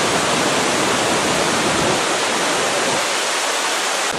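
Loud, continuous roar of a large waterfall heard close up, a dense, even rush of falling water without breaks and no voices.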